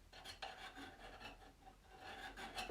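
A file rasps the burr off a metal hook tool used for bowl turning on a spring pole lathe, a few short, quiet scraping strokes in quick succession.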